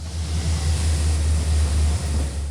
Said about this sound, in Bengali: আধা ঘন্টা আগে ফুল ব্রেক করেছি, এখনো ট্রেন থামছে না